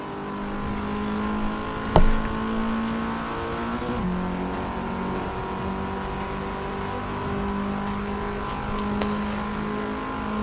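A car with a high-boost, high-torque setup accelerates hard on a circuit, engine note climbing then dropping through quick upshifts, with a sharp knock at one shift; steady, close, continuous drone throughout.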